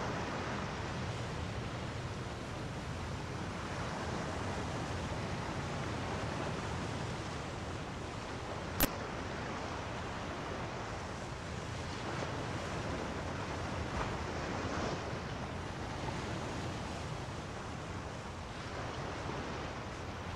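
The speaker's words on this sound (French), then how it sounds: "Les vagues partent à l'assaut avec plus ou moins de force." Ocean waves at high tide roll onto a shore in a continuous, broad wash of surf, with a wind rumble underneath and one sharp click partway through.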